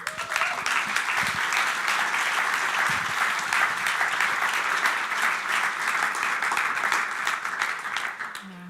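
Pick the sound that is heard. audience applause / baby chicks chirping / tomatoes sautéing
audience applause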